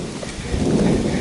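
Thunderstorm on an exposed Appalachian Trail mountain ridge: a short burst of steady rain hiss with a low, rumbling thunder swell building underneath, loud and close, no talking.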